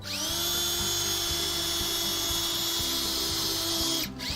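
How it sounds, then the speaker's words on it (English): A power drill whines steadily at high speed, biting into a wooden barrel at a distillery with a low grinding chatter, then stops abruptly near the end. "So we'll drill a hole."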